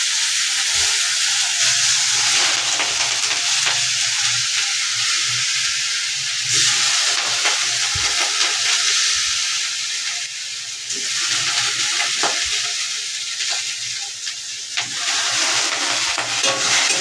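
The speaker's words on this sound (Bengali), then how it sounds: "ডালটাকে আমি একটু লাল লাল করে ভেজে নেব।" Washed moong dal frying in a pan, a steady bright sizzle and hiss running throughout, with occasional stirring scrapes and clicks, close and fairly loud.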